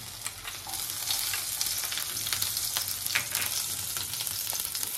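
Ginger paste, green chillies, asafoetida and spices fry and sizzle in hot oil over a low gas flame for samosa filling, a steady crackling hiss with stirring scrapes, close and continuous with no talk.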